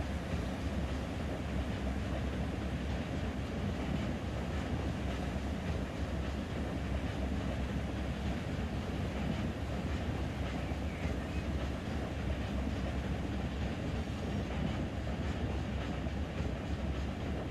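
A locomotive rolls along track in the Run 8 train simulator, switching at Los Angeles Junction Railway, a steady low rumble with faint rhythmic clatter throughout.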